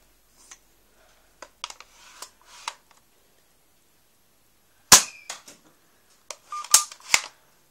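A Nerf foam blaster is reloaded and fired indoors, giving sharp close clicks and snaps in scattered bursts with a few louder spring-driven shots later, no talk.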